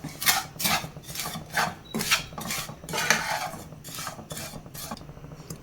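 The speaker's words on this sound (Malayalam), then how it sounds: "പഞ്ചസാരയും പാൽപ്പൊടിയും എല്ലാം നമ്മുടെ സേമിയയിൽ നല്ലതുപോലെ മിക്സ് ചെയ്തെടുക്കാം." A spoon scrapes and rubs through vermicelli mixed with sugar and milk powder in a pan, a steady series of rhythmic stirring strokes, close by with no talking.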